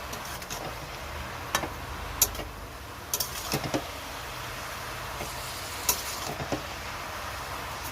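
Leafy greens frying in a pan with salt and turmeric, a soft steady sizzle broken by a few sharp scrapes and clinks of a utensil against the pan, close but quiet, with no talk.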